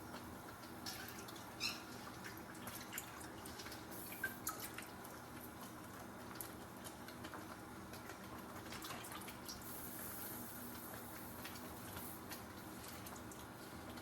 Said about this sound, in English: I'm going to add a little bit more water, because it's going to be too thick as it is.